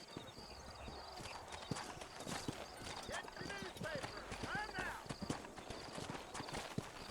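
Horse hooves clip-clopping in Red Dead Redemption, an uneven trotting patter of close, moderate hoofbeats with a brief whinny and ambient background, under faint game sounds.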